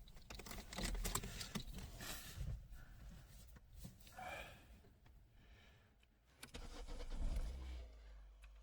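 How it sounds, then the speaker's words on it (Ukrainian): A 2005 Opel Astra H with a 1.6 petrol MPI engine cranks and starts, then idles with a mid-pitched hum, heard close with rustling and handling noise around it. "Зараз заведемо автомобіль, послухаємо,"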